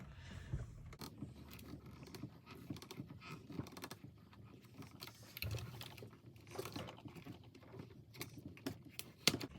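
An older white cutting machine feeding material through at an angle, a quiet close mechanical whir with patter and small clicks, rising and falling in short bursts without speech.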